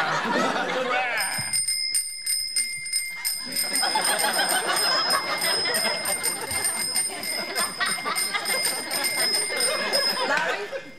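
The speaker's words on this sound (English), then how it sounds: "The bell in general, or just this song?" A bell chiming out a tune in a sitcom scene, repeated bright ringing tones held over several seconds, loud and steady, with people talking and chuckling underneath.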